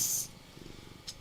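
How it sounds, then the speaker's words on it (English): Cats purr with a soft, close, low rumbling, after a brief airy rush at the start and another short high puff near the end. "are purring away."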